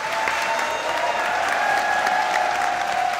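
Studio audience clapping along during a Pakistani cricket talk show, steady dense applause filling the room for the whole stretch, fairly loud with a faint tone ringing underneath.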